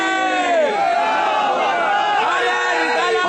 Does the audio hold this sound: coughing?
no